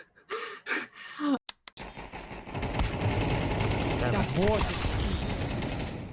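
Rapid, sustained bursts of video game gunfire roar steadily after a few short sounds and voices, dense and loud.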